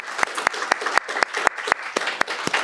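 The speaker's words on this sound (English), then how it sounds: "one more round of applause for this panel" A conference audience applauds a panel at a festschrift honoring Douglas Laycock, with steady, fairly close applause and sharp, regular individual claps standing out above the dense crowd of hands.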